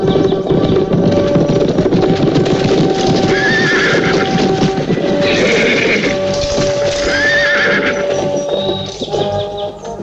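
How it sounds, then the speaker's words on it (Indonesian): Horses carrying riders approach with steady clip-clop of hooves on ground, while several loud neighs and whinnies ring out repeatedly over the trotting, close and prominent. "Gusti Temenggung, ada 10 orang naik kuda sedang menuju kemari."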